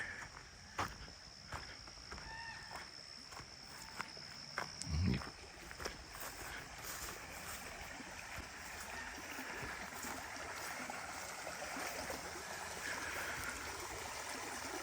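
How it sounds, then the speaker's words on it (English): A creek flows steadily beside a wooded dispersed campsite, a faint continuous wash heard at a distance, with scattered footsteps and rustling handling noises early on and no clear talk. "you can hear the creek"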